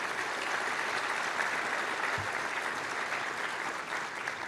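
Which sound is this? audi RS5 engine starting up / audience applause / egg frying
audience applause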